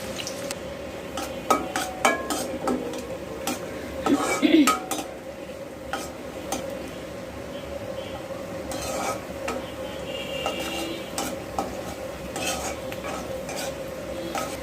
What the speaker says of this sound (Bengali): এখন এই তেলের মধ্যে আমি কিছু পেঁয়াজ আর কাঁচামরিচ ভেজে নিব।